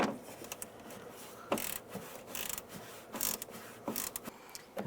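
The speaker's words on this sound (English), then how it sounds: "using a 10mm ratchet wrench, we want to take the other nut off on the other side" A 10mm ratchet wrench backs a nut off inside the door of a 2002-2009 Chevy Trailblazer during exterior handle replacement, giving quiet, irregular clicking and creaking bursts close by with no talking.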